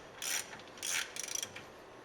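A ratchet tightens the brake hose bracket bolt on the housing of a 2017-2020 Ford F150 Raptor rear differential, giving three short close bursts of clicking, the last a quick string of distinct clicks.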